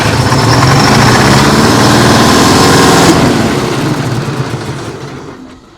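A supercharged two-stroke V8 Detroit Diesel in a Kenworth truck, long left sitting, revs hard and loud, then cuts off abruptly and winds down as an emergency flap slams shut.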